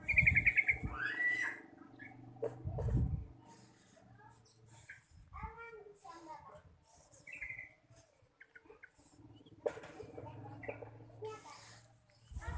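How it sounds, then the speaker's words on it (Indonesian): A trucukan bulbul sings a few bright, warbling phrases amid heavy background noise, with low rumbling passes of motorbikes; the song comes in short bursts rather than continuously. "Ini Trucuk Gatot Kaca."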